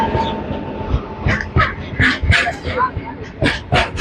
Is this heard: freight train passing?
yes